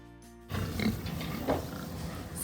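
Pigs on a corn farm grunt and oink in a short, continuous run of rough, close snorts after a brief quiet moment, with no talking.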